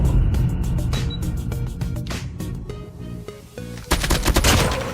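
Rapid gunfire in the Call of Duty Mobile video game: loud bursts of automatic shots, some clustered, some single cracks, continuing without pause over about five seconds, with no talking.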